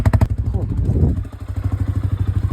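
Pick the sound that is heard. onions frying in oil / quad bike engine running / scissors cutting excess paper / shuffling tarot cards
quad bike engine running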